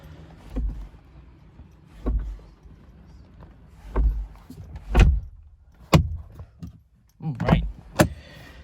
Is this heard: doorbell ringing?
no